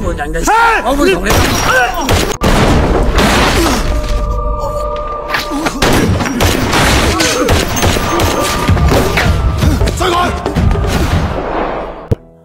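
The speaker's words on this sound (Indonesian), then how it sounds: "beruntung Lee berhasil melarikan diri dengan selamat dari baku tembak itu berkat rompi anti peluru yang dipakainya" Gunfire in a gangster film shootout, loud rapid bursts of shots and shattering impacts with booms, close and intense throughout, mixed with voices and score.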